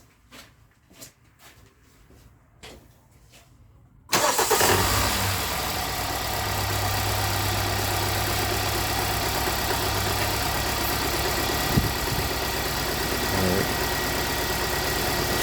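A Kia/Hyundai car engine with ignition coil 1 disabled: faint clicks first, then the engine fires abruptly and idles loudly and steadily, with a low drone and a brief bump near the end.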